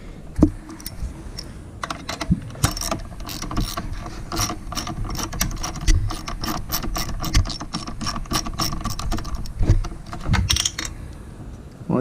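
A ratchet backing out an 8mm bolt on a Honda GL1800 Goldwing fuel tank, dense fast clicking close up in long bursts with a few metallic clinks, no talking.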